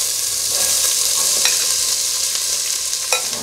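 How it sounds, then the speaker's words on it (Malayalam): Onions for chicken biryani sizzle steadily in a pan of spice masala, with a constant hiss and occasional stirring scrapes, close and fairly loud. "സവാള ഇട്ട് കൊടുക്കാം"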